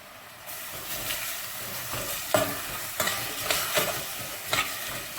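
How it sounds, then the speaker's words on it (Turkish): Carrots, potatoes and peppers are sautéed for a vegetable vermicelli soup, sizzling in the pan with a spatula scraping and clattering at a steady pace, close by and with no talking. "üzerine havuçlarımızı ilave edelim. Ve bunları 1-2 dakika kavuracağım."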